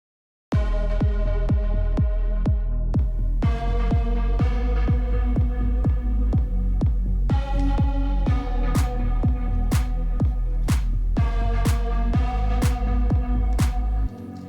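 A remake of an electronic track plays loud and alone, built on a steady, evenly spaced kick drum under sustained layered chords that shift partway through.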